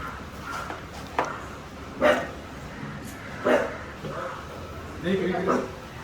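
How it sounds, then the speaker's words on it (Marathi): A dog barks in a few short, separate bursts at a house entrance, moderately close, with people talking around it. "कुत्र्याची एंट्री झाली. तो भुकायला लागला."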